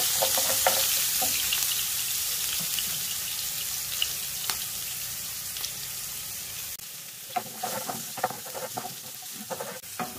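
Chopped garlic fries lightly in hot oil with a steady, close sizzling hiss, the sound thinning out toward the end as a few clinks and stirs come through.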